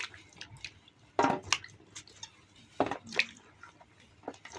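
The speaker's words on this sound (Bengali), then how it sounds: "পটলগুলোকে ভালো করে ধুয়ে নিতে হবে।" Pointed gourds (potol) being washed by hand in water, giving soft close splashes, drips and squishy handling sounds in a quiet room, with a few louder sloshes.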